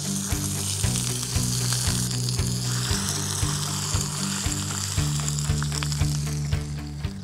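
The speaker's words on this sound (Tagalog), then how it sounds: "habang sinisir natin yung ating chicken" Chicken sears in a hot pan for Boholano halang-halang, giving a loud, steady sizzle that runs without a break, with faint soft knocks from the pan beneath it.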